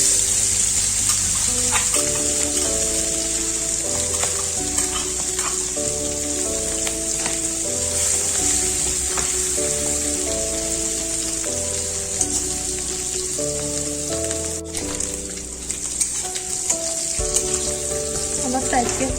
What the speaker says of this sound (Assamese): ইয়াত মই মছলা দি সানি থোৱা মাংসখিনি আৰু ইয়াত দি দিম।